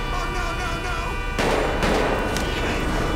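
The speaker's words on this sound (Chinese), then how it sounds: "哪边在开枪啊？" Bursts of gunfire in the video game GTA5, loud and dense over a constant background, with a sharper burst of shots about midway through.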